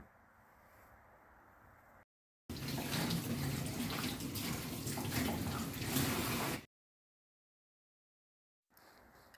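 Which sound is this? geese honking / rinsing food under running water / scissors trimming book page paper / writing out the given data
rinsing food under running water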